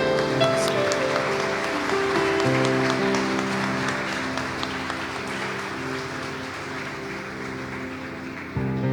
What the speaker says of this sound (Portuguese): Aplaudamos ao Senhor em nome de Jesus.